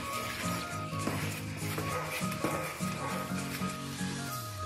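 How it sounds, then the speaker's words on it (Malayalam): Just-boiled water poured steadily into rice flour for idiyappam, a soft continuous hiss and sizzle lasting several seconds over steady background music. "ഇനി ഇതിലേക്ക് നമ്മൾ തിളപ്പിച്ച വെള്ളം ഒഴിച്ചു കൊടുക്കാം."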